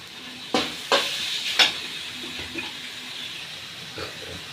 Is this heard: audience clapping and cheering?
no